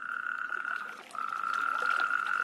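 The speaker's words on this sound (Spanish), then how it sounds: "Y eso permite, entre otros, a los sapos corredores el ponerse a cantar." Natterjack toads call in a continuous, loud, high-pitched trill that breaks off briefly and then resumes, with no voices present.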